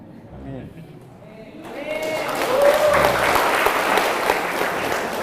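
Applause from a forum audience at an HMI student organization lecture swells in after a moment of quiet talk, rising to a steady, dense clapping that fills the room and holds loud to the end.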